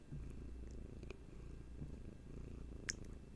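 Hattie the cat purrs close up in a soft, even rumble, quiet and unbroken apart from a light click near the end.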